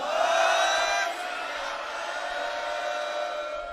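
A Sikh gathering marking the anniversary of volunteer cleaning of the holy Kali Bein rivulet, the crowd answering a jakara in a loud, sustained collective shout that swells at first, then holds steady.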